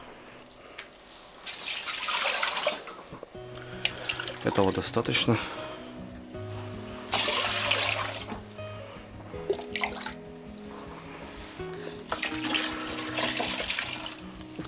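Water is poured into an autoclave being filled for steaming food in a village kitchen, with several bursts of splashing, gurgling pouring that start and stop while a person talks over them.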